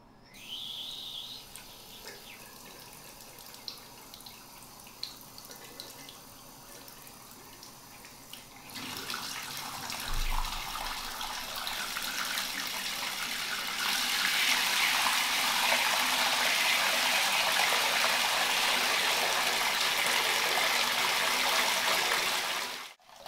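Water runs from a tap for a recording, starting as a faint trickle. It grows into a fuller, louder gush midway and swells again to a steady rushing pour before stopping abruptly.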